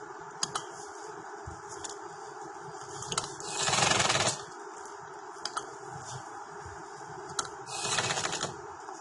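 A sewing machine stitches the slit of an open shirt with piping, whirring in two short bursts between quieter handling clicks and taps, close and fairly soft.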